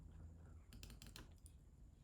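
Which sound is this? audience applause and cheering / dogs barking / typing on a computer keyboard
typing on a computer keyboard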